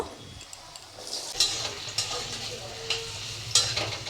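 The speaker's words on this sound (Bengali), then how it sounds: "তেল হয়ে গেছে গরম এখন আলুগুলো দিয়ে দিচ্ছি আলুগুলো বেশ লাল করে ভেজে নেব" Potatoes frying in hot oil in a home kitchen pan, a steady close sizzle with brighter crackling bursts and stirring scrapes, no talking.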